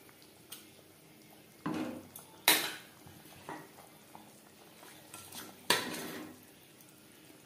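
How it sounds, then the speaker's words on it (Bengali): A spoon stirs fried tilapia into bubbling curry gravy in a pot, giving several loud, irregular clanks and scrapes against the metal between quieter stretches, with no talking. "মাছ বেশ ভালো করে মিক্সড করে দেব।"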